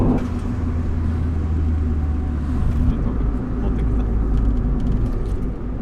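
Steady low rumble of a car rolling along a road from inside the cabin, constant engine and tire noise throughout.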